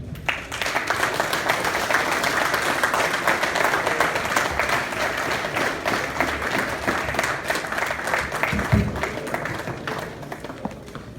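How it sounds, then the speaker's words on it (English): A crowd at a gathering honouring a Liberian councillor claps loudly and steadily for about ten seconds, a dense, even wash of hands that tapers slightly near the end. "A bigger round of applause for Councillor Banquet"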